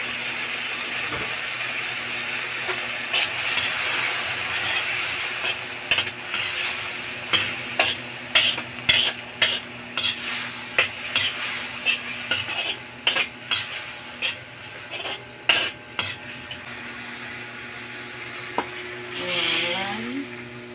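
Pancit bihon rice noodles stir-fried with soy sauce in a pan, with steady sizzling under a run of regular utensil scrapes and taps against the pan, close and fairly loud.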